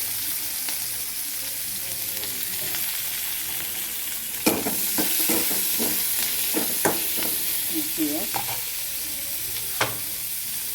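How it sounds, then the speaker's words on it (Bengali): Onions fry in mustard oil with a steady sizzling hiss, punctuated by a few clinks and scrapes of stirring in the pan, close and continuous with no talk. "আমি এবার দিয়ে দেবো পেঁয়াজ পেঁয়াজটা ভাজবো"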